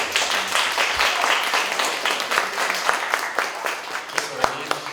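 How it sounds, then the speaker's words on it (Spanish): An audience at a university science-week event applauds a welcomed guest, a fairly loud, uneven patter of hand claps with distinct individual claps popping out, while a voice talks at moments underneath. "Por favor, le pido un aplauso."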